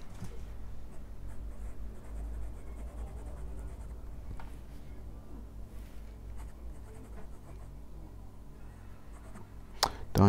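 A fine-nib fountain pen loaded with pink Diamine Cerise ink scratches softly across paper in quiet, continuous strokes, close and faint, ending with a few small taps.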